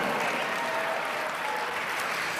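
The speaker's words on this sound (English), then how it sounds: "Give him a tremendous round of applause." Sustained audience applause at a network marketing speakers' event, a dense, even roar of clapping from a large crowd throughout.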